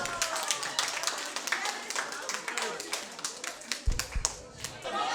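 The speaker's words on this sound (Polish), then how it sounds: "Gorące brawa, moi drodzy, gorące brawa dla zwycięzców." Wedding guests clapping for game winners at a Polish wedding reception, lively scattered hand claps that thin out over a few seconds, with a voice talking beneath them.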